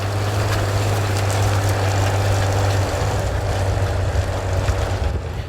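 John Deere 4010 row crop tractor with flat-top fenders, its engine running steadily nearby with a constant low drone throughout, a strong steady low hum for the first half giving way to a rougher rumble.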